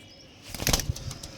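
A brief flurry of pigeon wings flapping close by as the birds are released, a quick rapid burst of beats that fades into softer flutters.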